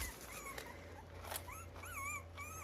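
Mini husky puppies whimper softly in their pen, making several high, wavering whines and yips, faint and close, with no talking.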